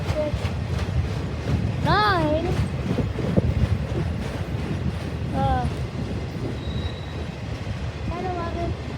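A long Norfolk Southern freight train with mid-train locomotives and cars loaded with tractors rumbles steadily past at close range. Its wheels give several shrill, wavering squeals over the continuous clatter.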